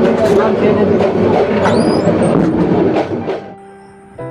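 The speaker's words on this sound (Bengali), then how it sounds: "অবশেষে সুবর্ণ এক্সপ্রেস এসে পৌঁছালো ঢাকার বিমানবন্দর রেলওয়ে স্টেশনে" Subarna Express passenger train pulling into Dhaka Airport railway station on the Chattogram to Dhaka run: a steady loud rumble with a brief high wheel squeal midway, easing off as the train slows, with voices mixed in.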